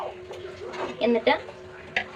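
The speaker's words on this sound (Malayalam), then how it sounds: "ഇത് നല്ലപോലെ ഇളക്കി കൊടുക്കണം പതുക്കെ." Vermicelli payasam being stirred slowly in a pot of boiling milk, with soft scraping strokes and a few clinks of the spoon against the pot, close and fairly quiet.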